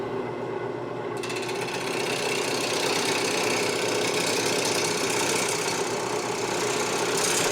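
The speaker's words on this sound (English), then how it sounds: "The first step after getting this mounted on the lathe is to get it round." A wood lathe spins a mounted cedar log while a tool cuts it round, giving a loud, steady mechanical hum with rough, continuous cutting noise and no talk.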